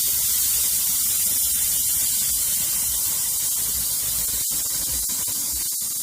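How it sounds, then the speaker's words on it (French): Air hissing steadily out of a mountain bike tyre valve as it is fully deflated, a loud, close, continuous spray of noise with a few faint clicks. "vous dégonflez complètement"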